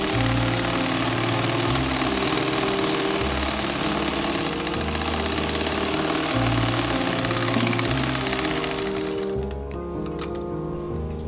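A sewing machine stitching a baby frock runs steadily and loudly with a fast, even mechanical whir and chatter, then slows and quiets near the end.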